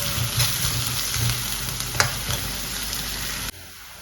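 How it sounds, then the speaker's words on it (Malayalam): Large onions sautéing in a pan for a tomato curry, a steady close sizzle with a few stirring scrapes, then cutting off sharply near the end. "ഇപ്പോൾ എൻ്റെ വലിയ ഉള്ളി നന്നായി വഴണ്ട് വന്നിട്ടുണ്ട്"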